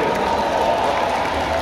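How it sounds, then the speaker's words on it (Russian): Crowd applause at a Moscow dog show as the smallest dogs, Affenpinschers, are named best pair, a steady dense wash of clapping and cheering throughout. "Ваши аплодисменты для самых маленьких собачек."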